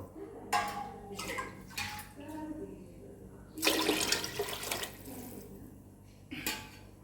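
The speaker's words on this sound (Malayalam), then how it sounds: "അപ്പം അരിക്കും കോഴി വേവാനും വെള്ളം ഒക്കെ ഒരുമിച്ച് ഒഴിച്ചു കൊടുക്കുക" Water splashes into a cooking pot in several short pours, for cooking rice and chicken, with one longer, louder gush in the middle; quiet background hum between pours.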